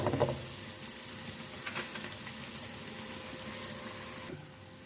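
Minced keema with tomato, green chili and ginger sizzles and fries in a pan while being stirred. A steady hiss of frying runs throughout, with a few louder scrapes and clinks from the stirring at the start and midway.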